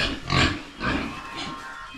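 Pigs in a pen at a small farm give repeated low grunting oinks, loud and close, one strong grunt followed by further rumbling snorts, with no talk over them.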